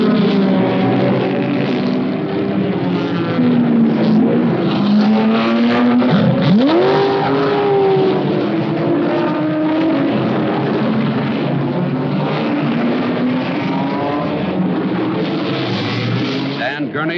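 Ford Mark IV race cars with modified 427 cubic inch Ford engines roar around Le Mans, loud engine whine rising and falling as cars pass, under continuous commentary from an announcer.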